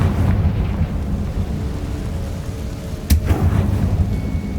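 Confringo fire-blast spell in the wizarding video game Hogwarts Legacy: a loud, continuous low rumbling roar with a sharp explosive crack about two-thirds through, like thunder or artillery.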